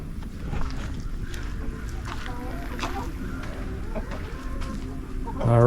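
Backyard hens cluck softly and steadily at a homemade no-waste chicken feeder, their calls close but fairly quiet over a constant low background hum.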